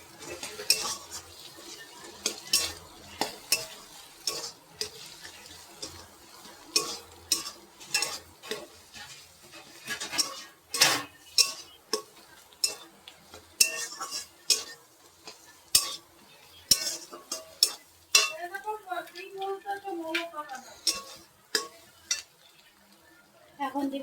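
Egg frying in a home kitchen pan while a utensil scrapes and clinks against the metal in irregular bursts over a faint sizzle, with a voice speaking briefly near the end.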